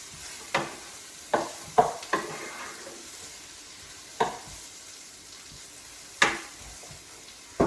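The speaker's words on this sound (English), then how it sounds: "I'll just give my onions a bit of a stir." A spoon or spatula stirs onions frying in a pan, giving a handful of distinct scrapes and knocks at uneven intervals over a soft, low sizzle, heard close with no talking.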